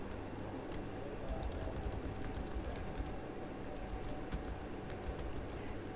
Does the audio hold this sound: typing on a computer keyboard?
yes